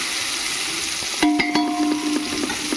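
Whole spices frying in a pan for prawn biryani, with a steady sizzle and the scrape and clink of stirring against the pan, plus a few sharp metallic taps midway.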